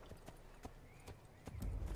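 Horse galloping in Assassin's Creed, the original game with Altair: rhythmic hoof clip-clops at a steady pace, close, ending in a heavier rumble, with no talk over it.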